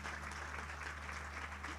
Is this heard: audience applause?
yes